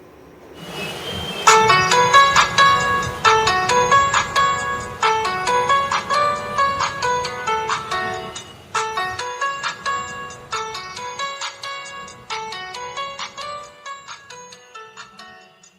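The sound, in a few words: HMD 130 Music button phone playing sound through speaker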